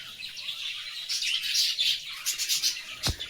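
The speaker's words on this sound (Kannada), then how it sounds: "ಇನ್ನು ಆ ಕಡೆ ಹಕ್ಕಿ ಇದೆ" Small birds at a pet bird shop chirp and twitter densely in a rapid, high, overlapping chorus, moderately loud, ending with a single sharp thump.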